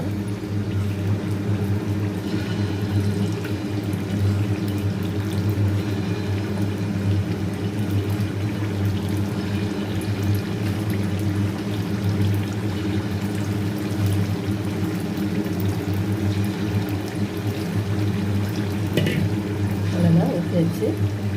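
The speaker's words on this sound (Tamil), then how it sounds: "மாவு எடுத்து விட்டுக்கலாம்." Unniappam batter poured from a vessel, a steady soft pouring and squishing of thick liquid close by, running throughout with faint background noise and a brief clatter near the end.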